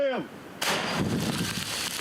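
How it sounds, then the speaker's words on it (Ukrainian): A single sharp gunshot cracks loudly, followed by a rolling echo that lingers and slowly fades. "Постріл!"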